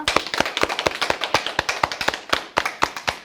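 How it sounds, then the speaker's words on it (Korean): Rapid hand clapping during a warm-up exercise, about twenty sharp, close claps in a quick, steady rhythm with no talking. "그러면 빠른 박수를 한번 쳐볼게요"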